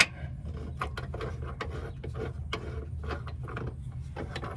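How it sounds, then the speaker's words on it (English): A bolt slides through the lower control arm on the passenger side of a 2004 Chevy Malibu, giving close metallic scraping and rubbing scrapes in a steady run under a low mechanical hum. "send your bolt through like this"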